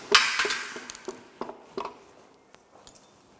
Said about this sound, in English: Can you hit up with this plastic hammer over there?